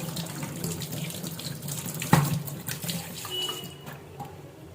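Raw chicken pieces of about 200 grams being rinsed under a running kitchen tap, a steady close splash of water with a brief louder knock partway through.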